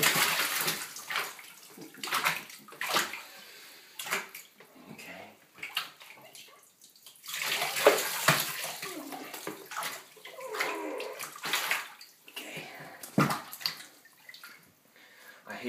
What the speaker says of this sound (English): I hate to turn that faucet on because that one got too loud.